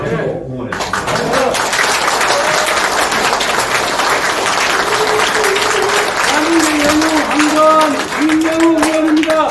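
Audience applause at a forum gathering, a dense, steady clapping that fills the room for several seconds, with voices and cheering mixed through it.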